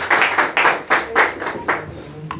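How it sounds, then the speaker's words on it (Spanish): A church congregation claps hands in praise to God, a run of about eight bright, fairly even bursts of clapping spaced at a brisk rhythm, loud and close, then stopping. "Le damos una ofrenda de palmas a nuestro buen Dios, mis amados hermanos."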